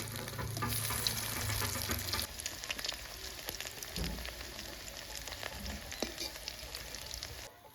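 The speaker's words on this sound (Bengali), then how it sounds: "মাছের বড়াটাকে লাল লাল করে ভাজে নিলাম" Fish fritters made with fish oil sizzle steadily in hot oil, a dense crackling hiss throughout with a few stirring scrapes, close and fairly quiet with no talk.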